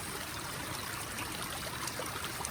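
Running tap water streams steadily while a white onion is washed beneath it, a soft continuous trickling and splashing heard up close and fairly faint.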